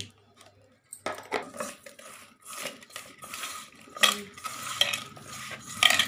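Small sea fish are mixed by hand with salt, chili powder and turmeric in a metal bowl, giving close, wet squelches and clinks of metal that come in uneven bursts after a brief quiet start.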